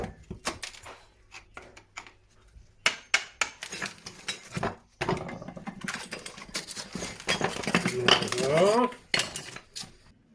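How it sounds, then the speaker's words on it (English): An old chisel pries wall tiles off a kitchen worktop, giving close, irregular metallic clinks, scrapes and taps that come in quick bursts and cluster more densely toward the end. "Just with this old chisel."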